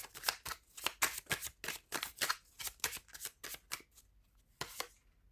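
Tarot cards riffled and flicked in a rapid series of crisp paper slaps, close and fairly quiet, with brief pauses between bursts and no talking.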